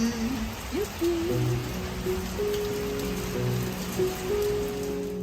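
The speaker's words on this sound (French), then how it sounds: "Encore sous la pluie." Steady rain falling on a surface, a dense continuous patter with faint tonal sounds in the background.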